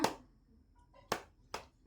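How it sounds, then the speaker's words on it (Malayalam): Hands clap three times, one sharp clap at the start and then two more in close succession near the end, loud and close with quiet between. "ആ ക്ലാപ്പ് അടിച്ച് കാണിച്ചു കൊടുക്കുമ്പോ"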